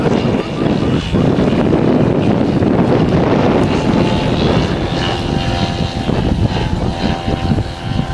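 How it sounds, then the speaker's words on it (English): A model propeller aircraft flying an aerobatic manoeuvre at a Battle of Britain weekend airshow in 2011: a loud, continuous engine drone, heavily buffeted by wind on the microphone, with faint voices in the background. "push the aircraft down."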